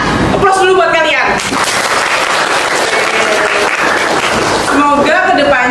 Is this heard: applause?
yes